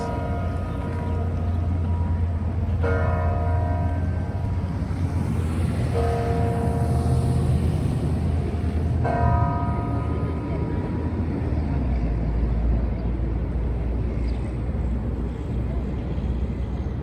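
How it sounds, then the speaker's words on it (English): Church bells at the Basilica of St. Mary in Minneapolis ring from across the street, with three ringing strikes about three seconds apart that fade slowly over a loud, constant low rumble of city traffic. "Bells ringing at the Basilica of St. Mary across the street."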